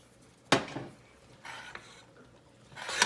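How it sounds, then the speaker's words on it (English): Turkey chili with three kinds of beans being stirred in a pot, a spoon scraping and clanking against the sides in a few distinct strokes with quieter rustling between them, close up and without talk. "Again, I'm just going to stir"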